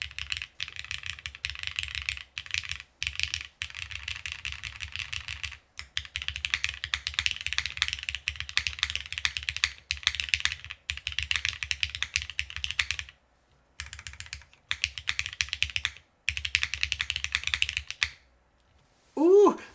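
Fast, uneven keystrokes clatter up close on a plateless Neo65 mechanical keyboard, with the space bar among the keys, in dense bursts broken by brief pauses. A short chirp sounds at the very end.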